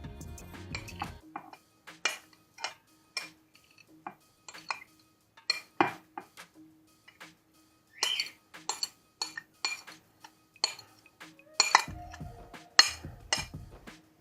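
A utensil stirs and scrapes through a bowl of finely chopped boiled eggs, spring onion greens and rice, making a series of sharp, close clinks against the bowl in uneven bursts with short pauses.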